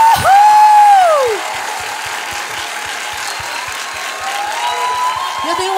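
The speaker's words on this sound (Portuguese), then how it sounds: "Eu quero uma salva de palmas." Concert crowd at a live gospel show in Rio cheering and applauding, a loud whoop rising over the noise at the start, then dense sustained crowd roar with scattered clapping and shouts.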